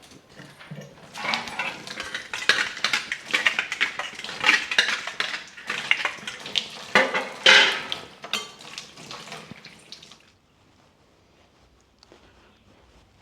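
Steel utensils, pots and pans clatter and scrape continuously during dishwashing in a household kitchen, loud and close with sharp clinks, then stop abruptly near the end, leaving quiet.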